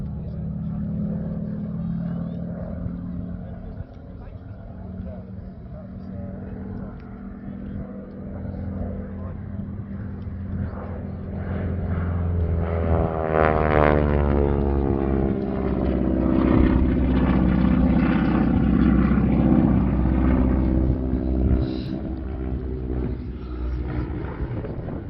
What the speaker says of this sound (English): Pilot's bringing the aircraft around now from the south for his final pass.